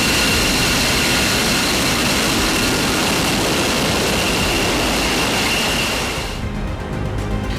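An F-22 fighter jet's engine roars loudly and continuously, a dense, harsh blast that drops away sharply near the end.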